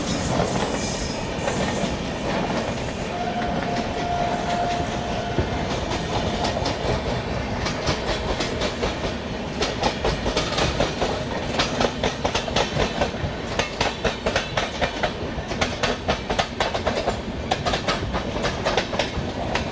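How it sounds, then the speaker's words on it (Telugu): An express train runs along the railway line near Guduru and Nellore in Andhra Pradesh, its steady rolling roar growing into a rapid, rhythmic clickety-clack of wheels on rail joints, loud and continuous throughout. "ఇక్కడ ట్రైన్ వస్తుంది."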